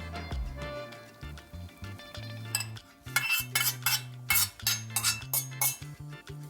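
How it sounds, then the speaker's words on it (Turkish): A spoon stirs eggless chocolate cake batter with melted butter in a bowl, giving a run of close, rhythmic clinks and scrapes against the dish, with a steady tonal hum underneath. "Önce kaşıkla karıştırıyorum yavaş yavaş."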